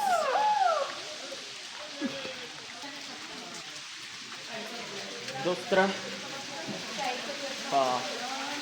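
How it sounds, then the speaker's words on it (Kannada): Heavy rain pours steadily during a road trip by car, a constant wash of noise under someone speaking over it. "ಮಳೆ ಮಾತ್ರ ಹೆವಿ ಐತಿ, ನೋಡ್ಬೋದು ನೀವು ಮಳೆ ಹೆಂಗೆ ಹರಿಯಾಕತೈತಿ."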